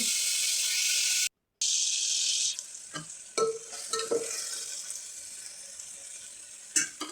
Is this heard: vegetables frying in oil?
yes